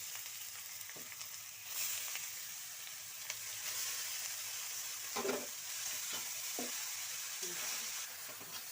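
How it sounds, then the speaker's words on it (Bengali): Grated carrots fry in oil with bay leaf and cinnamon for carrot halwa, a soft continuous sizzle punctuated by scattered scraping and stirring knocks of a spoon against the pan, fairly quiet and without speech. "গাজরগুলোকে এখন একটু ভেজে নিতে হবে"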